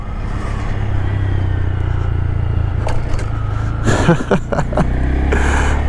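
A motorcycle engine droning steadily and then kicking up through a gear shift, with a burst of clattering, revving bursts near the end, heard close and loud.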